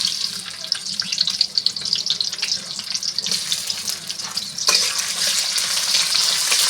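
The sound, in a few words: chopped onion frying in oil in a wok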